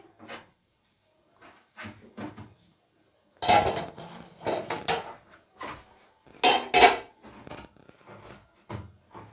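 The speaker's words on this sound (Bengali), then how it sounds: "এবার আমি ঢাকাটা তুলে নিচ্ছি।" A metal lid lifted off a cake pan holding a steamed biscuit cake, giving scattered clanks and scrapes of metal on metal, with a louder cluster of knocks and rattles partway through, close by and without talk.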